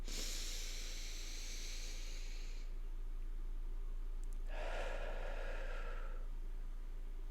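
A person takes a slow, deep breath in during a quiet meditation: soft airy hisses, one early and a second after a short pause, close to the microphone over a faint steady background hum.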